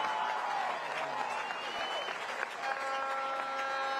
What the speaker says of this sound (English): I hear a lot of cheering. That's a lot of cheering.